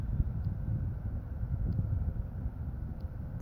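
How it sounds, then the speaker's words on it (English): Wind buffets the microphone outdoors on a nature walk, a continuous low rumbling gust noise, close and fairly loud, with no other clear sounds. "I hear the wind."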